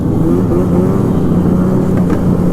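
The 600 engine of a Polaris Rush Pro R snowmobile runs loud and close, a dense, steady droning roar with no break or voices.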